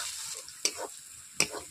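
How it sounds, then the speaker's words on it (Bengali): Ginger-garlic paste and onions frying in a pan for a Bengali katla fish curry give a steady close sizzle, with two sharp utensil clicks partway through and no talking. "আদা রসুনের পেস্ট দিয়ে দিয়েছি, ওগুলোকে আমি পেঁয়াজের সঙ্গেই ভেজে নিচ্ছি।"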